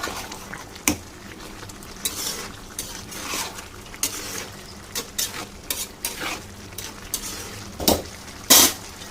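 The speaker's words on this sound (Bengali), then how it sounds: "একটু সব দিকে মিশিয়ে দেবো" Ground spice powder being stirred into biryani in a pot, repeated spoon scrapes and knocks against the pot over a soft sizzle, close up with no voices.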